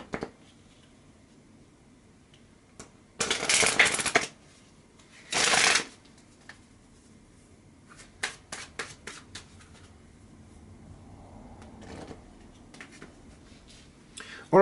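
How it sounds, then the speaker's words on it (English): Lenormand cards are shuffled by hand in two loud bursts of riffling close to the ear, followed by lighter scattered taps and card handling in a quiet room. "let me shuffle the Lenormand cards"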